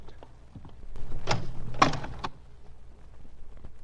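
A closet door with a mirror on it swinging open as a radio drama sound effect: a few close wooden clunks and a creaking sweep over about a second, then quiet room tone.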